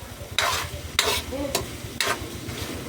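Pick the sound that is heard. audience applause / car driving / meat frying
meat frying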